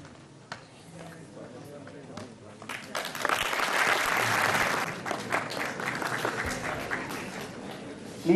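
Audience at a university science conclave applauds, a swelling wash of many hands clapping in a hall that builds and then eases, with a voice speaking over it at the start and end.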